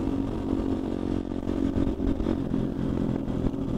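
A Honda CRF150L street-legal dirt bike engine revs steadily up close, its mid-pitched drone holding loud and continuous with slight surges.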